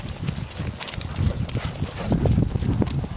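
Hooves pound in a quick, uneven rhythm as a horse gallops during a western riding lesson, with a dull thudding texture and faint voices in the background.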